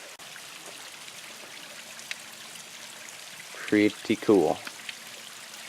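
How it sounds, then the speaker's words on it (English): A waterfall rushes in a steady, noisy wash close by at a site with a famous eternal flame, continuous throughout while someone speaks briefly over it. "I've got this gorgeous waterfall with the famous flame to myself"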